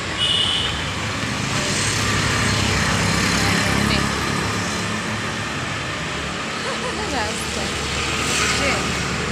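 Steady roar of traffic on a main road in Bangalore, with passing trucks, cars and buses blending into a continuous, fairly loud wash and a faint horn or two.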